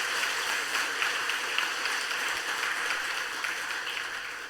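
A church congregation claps together in a steady, dense wash of applause, fairly faint and even throughout, fading slightly at the end with no voices over it.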